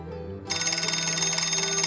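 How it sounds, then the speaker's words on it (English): A telephone rings in the next room, its steady electronic trill starting abruptly partway in and continuing loud over a low background hum. "the phone began ringing in the next room"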